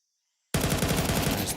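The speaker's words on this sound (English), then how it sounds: "PR to send some bullets up into red room" Rapid automatic gunfire in Counter-Strike 2 starts abruptly after half a second of silence, a loud, close, steady stream of shots fired through a wall up into red room.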